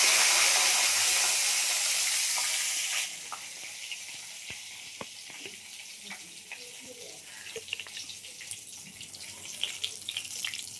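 Dried red chillies and bay leaves hit hot oil in a pan, giving a loud burst of sizzling for the first few seconds that then settles into a quieter, steady crackle with scattered pops.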